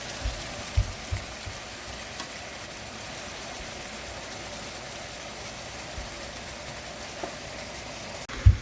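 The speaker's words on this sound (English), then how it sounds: "We're just gonna soften the garlic and onion" Garlic and onion softening in a pan give a faint, even sizzle, with a few soft knocks of a utensil near the start and end.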